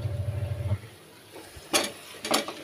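Food sautéing in a pan in a home kitchen: a low hum fades, then two short bursts of sizzling and stirring scrapes, close and moderately loud.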